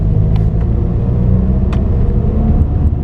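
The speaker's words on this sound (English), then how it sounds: "it's a car doing 30 miles an hour" A 2007 Volkswagen Eos 2.0 TDI with DSG automatic gearbox cruises at about 30 mph, giving a steady low interior engine and road rumble with faint brief ticks and no voices.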